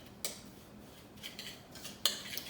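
A spoon mixes an oil and sugar scrub in a bowl, giving soft, sparse scraping and a few light clinks against the side. It is close and quiet, with no voices.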